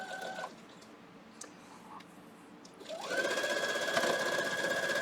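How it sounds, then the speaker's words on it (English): Sewing machine stitching quilt triangles, a short run at the start, then a pause with faint handling, followed by a steady, close whirring stitch run to the end. "I'm sewing those triangles to each corner."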